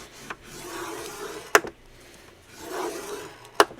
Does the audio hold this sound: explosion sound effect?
no